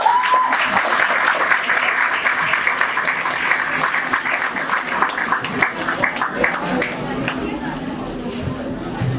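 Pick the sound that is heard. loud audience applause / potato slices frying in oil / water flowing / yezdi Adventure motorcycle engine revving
loud audience applause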